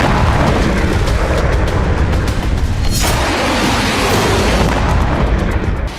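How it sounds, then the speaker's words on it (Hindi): A T-72B3 tank explodes after a hit from a small drone, a loud, heavy blast that becomes a continuous roaring rumble, with a sharp burst near the middle and a sudden cut at the end. "इसीलिए एक छोटे से ड्रोन से टैंक में धमाका हो गया।"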